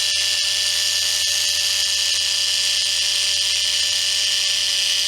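Adam's Polishes cordless micro polisher with a tiny motor running at a constant high-pitched whine, steady and close for the whole stretch, with no talking.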